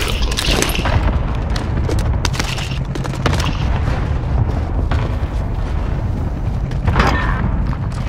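Rapid, sustained gunfire from a PS5 shooter game, dense and loud throughout with booming bursts and quick repeated shots layered over one another, no voices.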